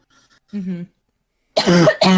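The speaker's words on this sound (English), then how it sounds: "when I talk too much I start coughing" Two quick bursts of coughing, a short one followed by a harsher double cough, close up with a brief pause between them.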